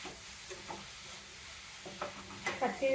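Carrot halwa, Rayalaseema style, frying gently on a slow flame while being stirred: soft, quiet sizzling with scattered scraping strokes that grow slightly louder near the end.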